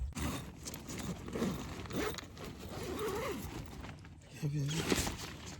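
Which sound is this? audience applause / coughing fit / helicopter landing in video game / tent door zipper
tent door zipper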